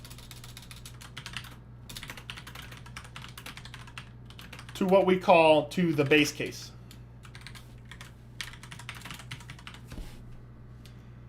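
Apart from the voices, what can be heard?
typing on a computer keyboard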